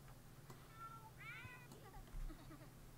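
A cat in The Sims life-simulation game meows a few times, short rising and falling calls, moderately close over a faint background hum, with no one talking.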